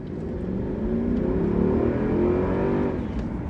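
Mercedes W220 S500 V8 engine revving steadily, a loud, close, sustained rising and falling drone with no speech over it.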